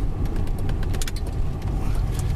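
A car travelling along a rural road toward the countryside, steady engine and tyre rumble with wind noise and a few light rattles inside the cabin, continuous and close, no talk.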